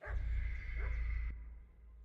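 A dog barking in the video game Kingdom Come: Deliverance II, a few short barks and whines over a steady low ambient rumble, fairly faint and distant, with no talking.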